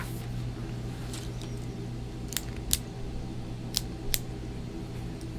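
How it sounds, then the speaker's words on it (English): A ballpoint pen is clicked right beside a microphone, giving two pairs of sharp, close, crisp clicks over a quiet room hum with a faint fan-like background. "I got the pen. Okay. I clicked it right next to the microphone."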